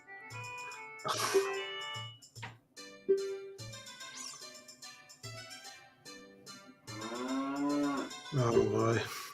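A cow moos several times in a row, loud and close, long drawn-out lowing calls separated by short pauses, the last ones stretched and wavering, with no one talking over them.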